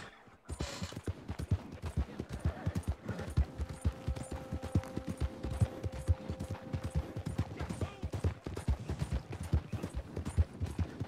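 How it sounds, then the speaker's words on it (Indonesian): Horse hooves clip-clop steadily at a slow walking pace in Red Dead Online, close and rhythmic, with a faint sustained tone in the background. "Ini kuda lambat bener sih."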